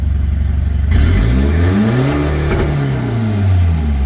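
A car engine idles roughly, then revs up and slowly winds back down during an EGR fault check, loud and close with no talk.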